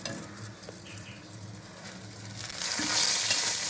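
Red chillies sizzle and fry in hot oil while old tamarind chutney is being made. The crackle is soft and close, with faint stirring clinks. The sizzle grows brighter and louder in the last second.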